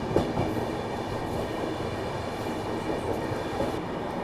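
The Ahmedabad-Gorakhpur Express running through fog near Prayagraj, heard from inside the coach as a steady rumbling roar with faint rhythmic clatter of wheels, continuous and moderately loud without talk.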